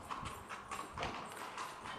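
Horse-drawn carriages clip-clopping along a path at Petra, Jordan, with steady overlapping hoof beats at a moderate distance and a faint background murmur.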